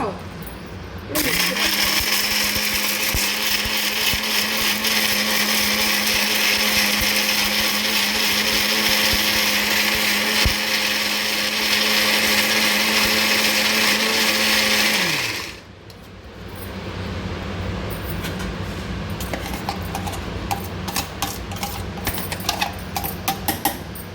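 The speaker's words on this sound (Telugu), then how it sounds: "ఇప్పుడు ఇది మిక్సీ పట్టుకోవాలి" A mixer grinder whirs loudly and steadily for about fourteen seconds blending ridge gourd chutney, then cuts off and winds down, leaving quieter background noise.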